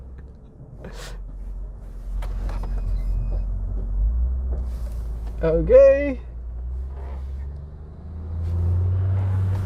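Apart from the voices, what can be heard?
truck driving past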